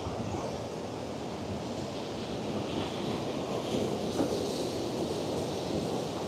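A waterfall pours enormous amounts of water in a steady, dense roar with no breaks, loud and unbroken throughout.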